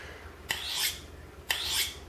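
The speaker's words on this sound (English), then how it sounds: "I just take a sharpening steel, and you hear that? A lot of friction." A sharpening steel rasps along a knife blade to strip off the burr, two separate gritty strokes about a second apart, each starting with a sharp scrape and fading, close and fairly quiet.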